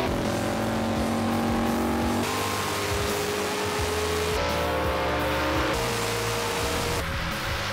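A drag race car launches hard off the starting line with a loud, continuous engine roar, stepping up in pitch through several quick gear changes as it pulls down the strip.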